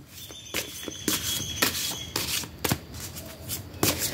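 Tarot cards are shuffled close up for a love reading, producing a run of quick papery riffles and soft slaps in uneven bursts over a few seconds, with no voice.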